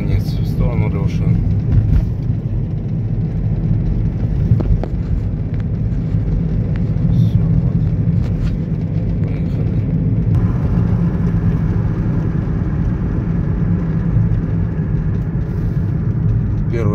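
Steady low road rumble of a car travelling along a highway toward the Romanian border, continuous and moderately loud, with people talking at times.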